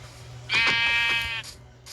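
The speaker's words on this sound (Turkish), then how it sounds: "Burada da koyun varmış." Sheep bleat in a Minecraft game: one loud, close, quavering bleat with a strong buzzy tone that lasts about a second, followed by a couple of fainter short bleats.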